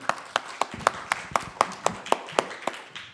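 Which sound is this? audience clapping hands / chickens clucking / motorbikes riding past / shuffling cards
audience clapping hands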